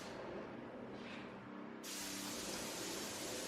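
A sprayer machine applies block filler to cinder block walls, making a continuous airy hiss that starts faint and grows noticeably louder and fuller partway through.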